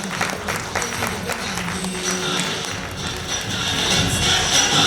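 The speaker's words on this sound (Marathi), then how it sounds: "टाळ्यांचा आवाज झाला पाहिजे." Audience clapping at an annual day function, a dense, steady patter of many hands that holds throughout and swells slightly toward the end, with faint murmurs beneath.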